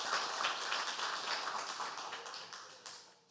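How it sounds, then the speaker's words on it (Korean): A church congregation at a Sunday worship service claps in a dense, steady burst of applause that fades somewhat toward the end, heard from a moderate distance. "하나님께 감사와 영광의 박수 올리겠습니다."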